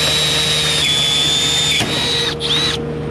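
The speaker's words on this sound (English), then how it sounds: "Get that thing drilled out." A power drill turns a Greenlee carbide-tipped quick cutter to bore a hole in an electrical box during walk-in cooler work, a steady high whine that dips briefly near the end.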